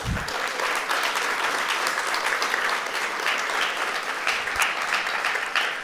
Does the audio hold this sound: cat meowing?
no